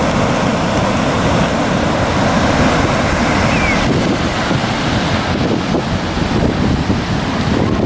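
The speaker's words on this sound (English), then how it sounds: "Comes the waves coming in." Ocean waves roll in at a beach amid heavy wind buffeting, a loud, continuous wash of surf with steady roaring noise and no clear breaks.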